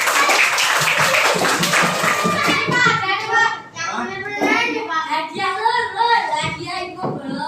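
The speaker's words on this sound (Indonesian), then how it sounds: "Tepuk tangan semuanya" A classroom of children claps together, a loud, close burst of many small hands that gives way to rhythmic clapping mixed with lively kids' voices and chatter.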